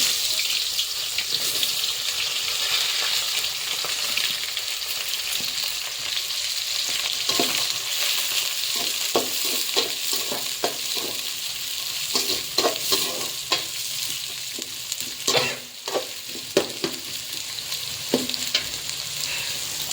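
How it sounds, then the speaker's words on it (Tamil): Onions sauté in hot oil with popped mustard seeds for a dried fish curry, a loud continuous hiss and crackle up close, with repeated scraping strokes of a ladle stirring the pan growing busier toward the end. "ஓகே, இப்போ வெங்காயம் வதங்கட்டும்."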